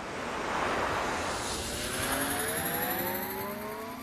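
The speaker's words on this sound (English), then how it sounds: "Listen, you can hear the jet motors." Jet motors of an invisible spaceship taking off, a loud continuous roaring rush with rising whining tones that swell and climb steadily, with no voices.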